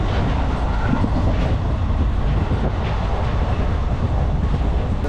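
A passenger train on the Okha route rolls along the rails with a constant dense rumble and faint rhythmic clatter, heard steadily from on board with no speech.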